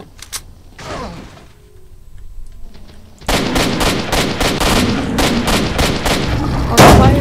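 Automatic gunfire in S.T.A.L.K.E.R.: Shadow of Chernobyl, starting with a few scattered shots and a quieter pause, then breaking into a loud, rapid run of close bursts that lasts to the end.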